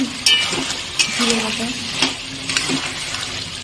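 Chili paste fries with chicken in a pan, a close sizzle mixed with spoon stirring and occasional clinks against the pot, with brief voice-like sounds mingled in.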